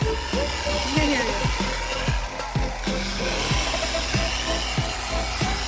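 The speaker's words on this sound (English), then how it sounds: "That's a random orbit polisher, which will allow no holograms, and it'll get rid of any holograms." A random orbit polisher works micro polish into the paint of an El Camino, giving a loud, steady motor whine with repeated swooping pitch changes as the pad moves over the panel.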